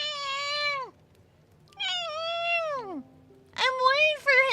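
A person's voice imitates a cat meowing with three long, drawn-out, whiny meows, each rising then sliding down in pitch, close and fairly loud, with short silences between them.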